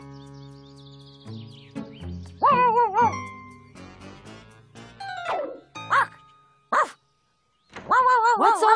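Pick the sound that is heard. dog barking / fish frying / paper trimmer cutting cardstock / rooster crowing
dog barking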